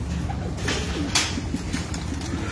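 Pigeons on a rooftop coop in Rajasthan, with soft low cooing and a few faint calls over steady outdoor background noise, close and continuous throughout.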